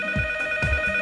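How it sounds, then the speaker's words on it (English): A phone rings in a horror video game, two electronic ring bursts with a steady tonal buzz, loud and close with no voices. "After that, the phone will ring."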